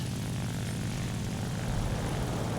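Propeller engine of the XP-55 fighter plane in War Thunder, a steady, loud, dense drone that holds unbroken with no talk over it.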